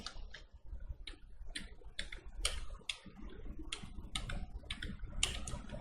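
A computer keyboard is pressed repeatedly with the Ctrl, Alt, Shift and T shortcut while working in Photoshop, giving about ten crisp clicking keystroke bursts at a steady, slightly uneven pace, close and fairly quiet, with no speech.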